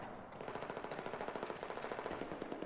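Rapid automatic rifle fire in Battlefield 4, a steady run of about two dozen evenly spaced sharp shots over roughly two and a half seconds, fairly close and loud with no talking.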